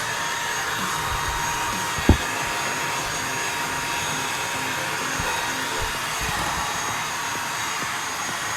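An Orfeld WB08 cordless vacuum cleaner runs continuously with a loud, steady whining roar and one brief knock partway through.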